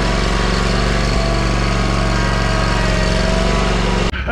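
A zero-turn lawn mower engine runs loud and close at a steady drone, then cuts off abruptly near the end.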